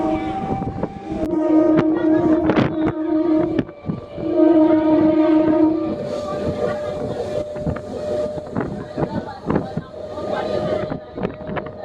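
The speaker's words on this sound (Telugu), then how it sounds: "పుడి స్టేషన్ నుంచి మన ట్రైన్ బయలుదేరింది" A MEMU train on the Kadapa–Arakkonam line pulls away from Pudi station, its horn sounding in long sustained tones over rumbling wheels and wind buffeting the microphone, heard close and loud.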